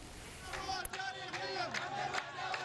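Hundreds of demonstrators march through the old streets of Al-Qatn in Wadi Hadramawt, their massed voices forming a dense, steady roar of chanting with rhythmic surges.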